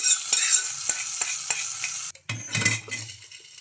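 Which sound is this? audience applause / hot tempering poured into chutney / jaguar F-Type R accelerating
hot tempering poured into chutney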